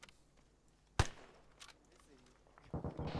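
Gunfire during military convoy training, one sharp loud shot followed by fainter pops and a burst of rapid reports near the end, with quiet gaps between.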